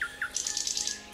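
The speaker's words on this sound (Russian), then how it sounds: "В саду проживает множество видов птиц" Birds in an overgrown wild garden give a few quick bright chirps, then a fast rattling trill, close and clear with no talk.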